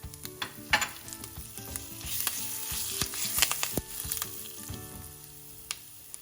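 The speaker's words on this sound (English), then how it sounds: "Now I put curry leaves." Curry leaves dropped into hot oil with hing, sharp crackling and popping bursts over a steady sizzle, with a few spoon clinks, close and without speech.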